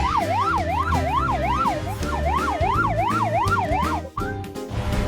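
A police car siren wails loudly and close, its pitch sweeping up and down in a fast, steady cycle that repeats throughout, with a deep engine rumble underneath and a brief dip near the end.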